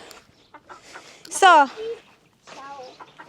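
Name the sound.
chickens clucking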